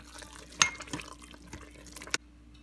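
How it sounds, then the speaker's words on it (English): Cabbage soup in tomato sauce is stirred inside an Instant Pot, giving faint wet sloshing with a couple of sharper clinks of the spoon against the pot, the last clink near the end before quiet. "now that I finished stirring it up"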